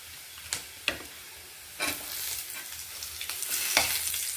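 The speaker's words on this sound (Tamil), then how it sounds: "இப்போ நம்ம புளியும் தேங்காயையும் போட்டு வதக்கலாம்." Tamarind and coconut sauté in a pan for a coriander chutney. A soft sizzle runs underneath, broken by a few crisp scraping stirs and clacks of the spatula that grow busier toward the end.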